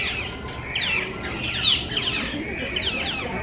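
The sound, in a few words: birds calling in a zoo aviary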